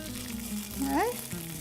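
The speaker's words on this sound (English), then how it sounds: "you can hear that nice sizzle, so it'll heat up the spaghetti" Leftover cooked spaghetti sizzles in a pan with a faint, steady hiss, close by, under a voice.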